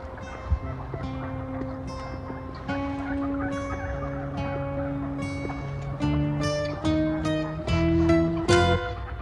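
Wild turkeys gobble repeatedly at a corn-baited trap site, their rattling calls overlapping in bursts that grow louder and denser toward the end, with several birds calling from near and mid distance.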